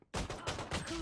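Rapid gunfire from the golden gun in Valorant's Spike Rush mode, a dense burst of loud, close shots that keeps going almost without a break for about a second after a brief quiet start.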